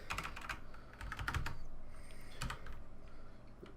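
Quick, uneven clatter of keystrokes on a computer keyboard while Java loop code is typed, close and moderately loud with short bursts and brief pauses.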